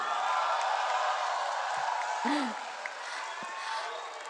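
Audience clapping and cheering for Rocky Gerung, a dense steady crowd noise that thins slightly toward the end, with a brief voice in the middle.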